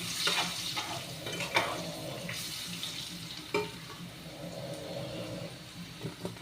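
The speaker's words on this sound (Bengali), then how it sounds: "প্রথমে আমি আলুগুলোকে ছেড়ে দিলাম।" Thinly sliced potatoes are dropped into a hot pan and fry in a steady, moderate sizzle, with a few sharp clinks and stirring scrapes close by and no talking.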